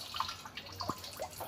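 Water dripping from a squeezed-out cloth during painting work: a few faint, sparse drips and small splashes, close by and quiet.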